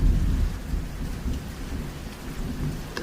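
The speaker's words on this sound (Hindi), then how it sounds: "बारिश लगातार होती रही।" Steady heavy rain with a deep rolling rumble of thunder, a cartoon-style storm sound effect that stays loud and continuous throughout, with no voices.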